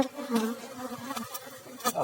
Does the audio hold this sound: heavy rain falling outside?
no